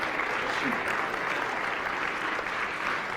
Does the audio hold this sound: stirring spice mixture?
no